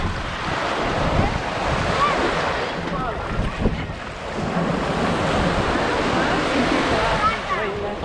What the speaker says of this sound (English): this is where you see how powerful the ocean is. Just a small wave will take your feet from under you.